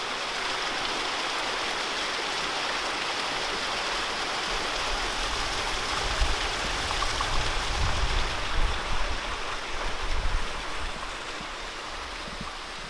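A stream pours over a small waterfall in Shenandoah National Park, a continuous full rushing wash of water that swells a little midway, with no voices.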